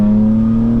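Deep, steady engine drone from a 900hp 2025 BMW M4 Competition xDrive with valves open, loud and close in a brief burst with no talk.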